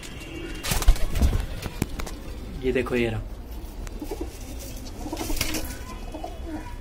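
Madrasi pigeons coo softly nearby in a loft, a few low throaty calls, while someone talks over them.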